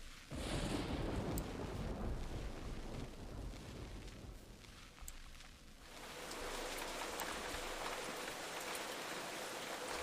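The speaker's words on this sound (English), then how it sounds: "Thunder, then rain." In the video game Nancy Drew: The Secret of the Old Clock, a loud, rumbling roll of thunder fills the first seconds, then steady rain hisses and patters, continuing through to the end.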